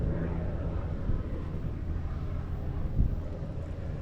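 Wind buffets a microphone outdoors, a steady low rumbling roar with a few stronger gusts, heard while a fishing knot is tied onto a leader line for bass fishing.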